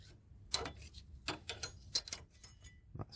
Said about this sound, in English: So gently with a screwdriver we're going to remove these shims.